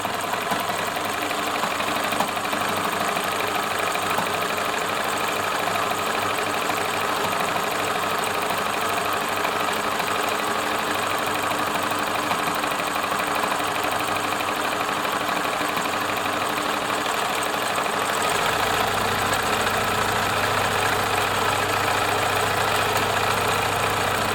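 A Bernina Nova 900 electronic sewing machine runs steadily while free motion sewing, giving a continuous whirring mechanical hum with no pauses. Its tone shifts slightly near the end.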